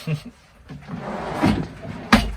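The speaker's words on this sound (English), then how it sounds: "Nice big drawer." A big wooden drawer in a camper van is slid open or shut, giving a dull rolling scrape and then a sharp knock at the end, with people talking over it.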